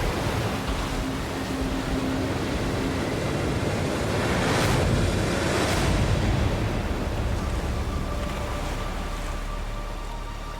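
River water rushing through the Grand Canyon, a loud, continuous roar that swells slightly in the middle and stays steady throughout, with no voices.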